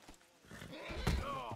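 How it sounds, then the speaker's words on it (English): A horse in Red Dead Redemption 2 gives a short neigh with a few hoof clops. The sounds are fairly faint and mixed with light talk. "This is a nice horse."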